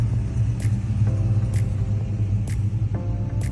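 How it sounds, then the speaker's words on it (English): A 1978 Pontiac Firebird Trans Am muscle car engine rumbles loud and close, a deep steady growl broken by short sharp bursts roughly every second. "1978 Pontiac Firebird Trans Am, a legendary muscle car made famous by pop culture"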